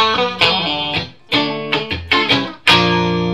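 Washburn N4 electric guitar with its humbucker combined with a single-coil pickup: a short phrase of bright, distorted notes and chords, close and loud, with several sharp picked attacks and brief gaps between them, played alone.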